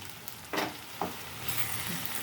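Food frying in oil in a pan on the stove, cooked with the lid on: a low steady sizzle with a couple of brief stirring scrapes, no talking.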